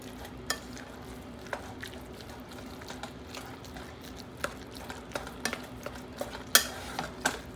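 Ground beef cooks in a pan for beef pasta, a low steady frying hiss broken by scattered scraping taps of a utensil stirring and flipping the meat, no voices.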